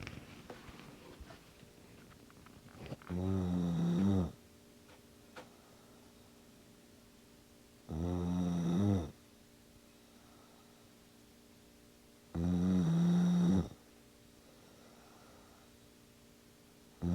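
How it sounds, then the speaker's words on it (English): A sleeping person snores three times, each a long, rumbling breath about four seconds apart, close and fairly loud over steady faint room hiss in a quiet bedroom. "I think she snores."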